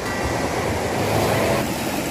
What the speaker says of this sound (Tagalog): Ang ganda ng hagos ng tubig po